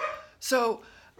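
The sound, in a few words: dog barking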